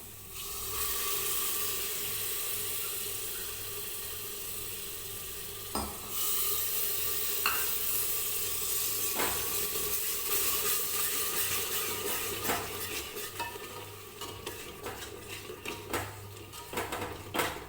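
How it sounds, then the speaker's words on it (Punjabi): Spiced curd masala for a rajma dal roasting in a pan, a soft continuous sizzle with occasional scraping and stirring knocks, close by and without talking. "ਹੁਣ ਇਹਨੂੰ ਫੇਰ ਭੁੰਨਾਂਗੇ ਜੀ ਆਪਾਂ ਚੰਗੀ ਤਰ੍ਹਾਂ"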